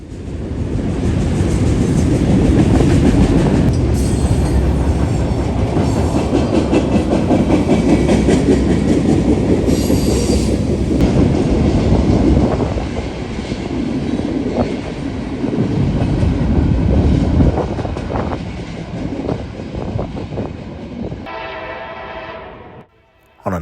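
A Norfolk Southern freight train hauled by older 2000s-era locomotives rolls past close by, a loud sustained rumble with rhythmic clickety-clack of wagons over rail joints that fades toward the end as the train clears.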